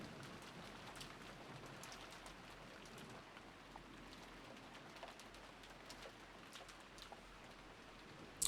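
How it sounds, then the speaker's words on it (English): Rain falls steadily in a soft, distant hiss with scattered patters of drops, faint and continuous throughout, ending in a sharp click. "Can we hear the rain?"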